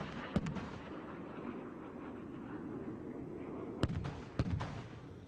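Simulated gunfire rounds strike the beach during a naval display with RFA Argus at the 2017 Bournemouth Air Festival. Three sharp, distant bangs, one early and two close together near the end, cut through a steady wash of wind and outdoor noise.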